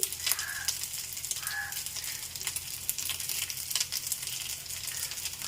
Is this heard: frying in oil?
yes